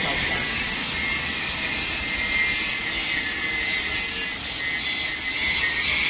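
A grinder works on the hydraulic gearbox parts of a Ford tractor, giving a steady, harsh, high-pitched abrasive whine with a grinding hiss that runs without a break and sits fairly close.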